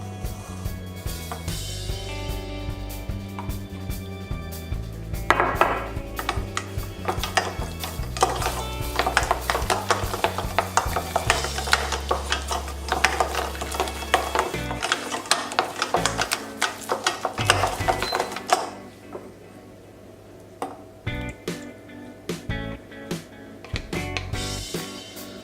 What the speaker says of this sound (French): Donc je vais incorporer petit à petit mes œufs.